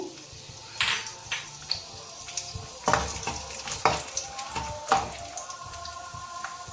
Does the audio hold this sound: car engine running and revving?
no